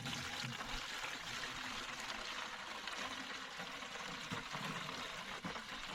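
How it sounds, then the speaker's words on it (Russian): Water pours steadily from a container into a canister outdoors in a village, a continuous trickling, splashing stream that stays close and fairly loud from start to finish, with no talking over it. "Водичку набрала и теперь наливаю."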